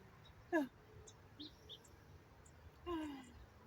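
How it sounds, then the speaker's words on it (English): Occasional short bird chirps at dusk in a garden, a few isolated calls spread apart, faint and distant over quiet background. "And I can hear the birds in the trees right now, even though it's late. They are chirping"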